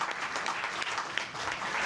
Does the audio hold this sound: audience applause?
yes